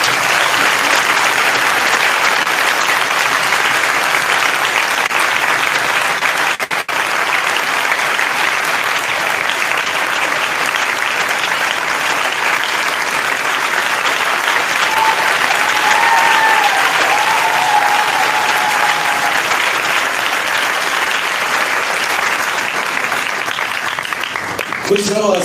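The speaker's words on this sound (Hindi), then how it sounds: "आइए खुदावन के लिए अच्छी ताली बजाएंगे।" A church congregation applauding during a Hindi-language sermon, loud continuous clapping from many hands that holds steady for the whole stretch, with faint voices mixed in.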